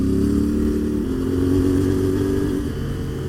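A 450MT motorcycle engine drones steadily nearby with a constant low hum, shifting slightly in pitch as it rides along.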